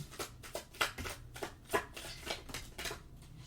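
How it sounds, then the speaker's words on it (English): A deck of tarot cards is shuffled close up in a series of quick, crisp riffling bursts, about half a dozen in a steady rhythm, with no talking. "I'm going to shuffle it one more time."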